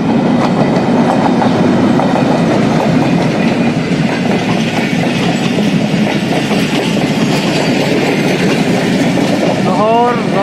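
Pakistan Railways train rolling through Shahdara Bagh Junction in heavy rain, a loud continuous rumble with rhythmic clickety-clack of wheels over rail joints and a hiss of rain, ending with a brief squeal.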